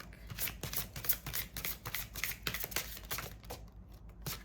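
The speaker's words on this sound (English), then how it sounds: "Keep going with that shuffle" Cards being shuffled, a rapid riffling patter of soft papery flicks that rises and falls in short bursts, close by and fairly quiet.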